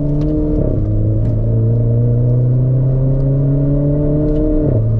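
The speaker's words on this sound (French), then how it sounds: "J'adore le pop and bang" Renault 4 RS Trophy engine running loud and close in steady harmonic tones that shift pitch twice between gears, with faint crackle from the exhaust above it.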